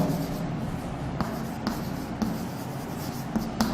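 Marker or chalk scratches across a lecture board in steady strokes with small taps, close and fairly loud over a constant room hum, with no talking.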